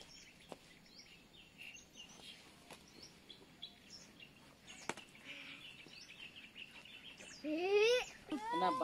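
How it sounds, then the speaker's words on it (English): Birds chirp on a fog-covered trek trail, faint scattered tweets over quiet background, with a burst of louder whistled calls near the end. "Let me be silent so that you can actually hear the birds chirping"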